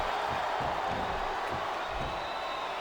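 Steady, dense arena crowd roar from the wrestling video game SmackDown vs. Raw 2007, a continuous wash of cheering and murmuring at even loudness with no clear individual voices.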